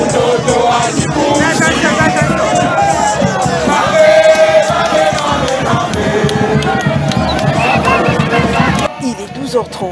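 Immense crowd gathered to welcome a politician at her electoral stronghold in Kipushi territory, a dense, loud babble of shouting and cheering voices that stays busy throughout and thins briefly near the end.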